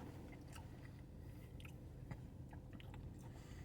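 Close, steady chewing and biting into a crunchy fried chicken sandwich topped with coleslaw, soft moist mastication with small crisp crunches scattered through, no talking.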